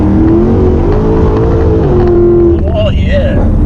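A slammed Holden VF Commodore drives with a steady, loud engine drone that rises as it revs near the end, while people talk over it throughout.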